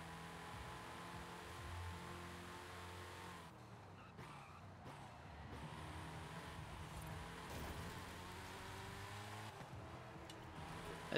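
A Dodge Viper in Forza Horizon 5 drives with a steady engine roar, briefly dropping in pitch during a gear change or lift off before building again, heard at moderate level and alone without talk.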